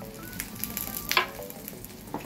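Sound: food frying in a pan

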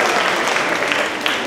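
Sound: audience applause

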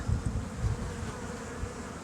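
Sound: bees buzzing

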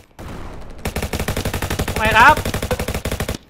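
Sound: gunfire in a Roblox Call of Duty-style video game

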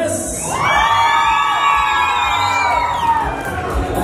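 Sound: applause and cheering for a dance couple

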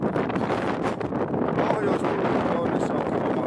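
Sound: wind blowing

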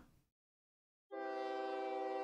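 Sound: trains arriving at depot in OpenTTD video game

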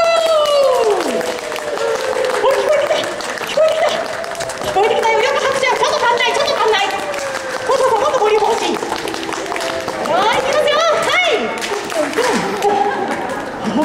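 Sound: audience applause for Kumamon

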